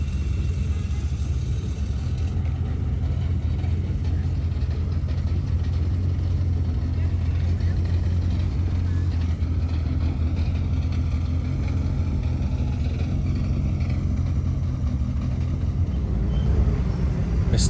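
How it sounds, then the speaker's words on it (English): A Ford Escort Mark II rally car racing at Oulton Park, its engine a loud, steady, close rumble that holds for the whole stretch without pause, with no talk over it. "And an absolutely unreal Mark II Escort."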